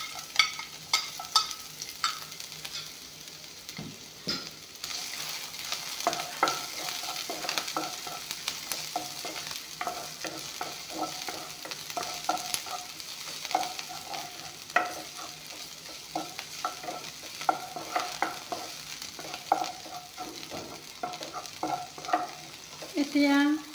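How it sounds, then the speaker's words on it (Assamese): Garlic and green chillies frying in a pan, a continuous crackling sizzle broken by repeated scraping and stirring clatter, close and fairly loud, with no one speaking. "এতিয়া নহৰু জলকীয়াখিনি প্ৰথমতে দি ভাজি ল'ম অলপমান"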